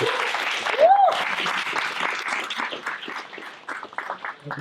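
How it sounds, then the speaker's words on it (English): An audience at a memorial service breaks into warm applause, a dense patter of clapping that starts strong, carries a brief whistle near the start, and gradually thins out. "Let's give them a round of applause."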